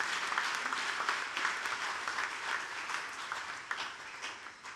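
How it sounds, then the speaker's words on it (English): An audience at a hospital anniversary celebration in Fiji claps steadily, a dense, even wash of applause heard at a distance without talk. "A huge round of applause for all of them."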